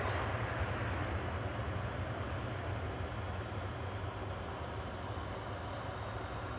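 Ryanair jet from Dublin at Manchester Airport, a continuous loud engine roar and low rumble, steady and slowly easing over several seconds without talk.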